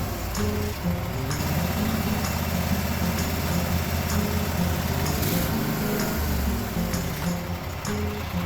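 Cub Cadet 1050 Hydro garden tractor engine idling steadily up close with a rough, uneven throb, faltering and sputtering near the end as it diesels on.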